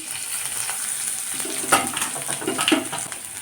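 Grated carrot, green chillies and curry leaves sizzle in hot oil in a frying pan for vegetable Maggi noodles, a steady close hiss with scraping stir strokes and a few clinks of the spatula.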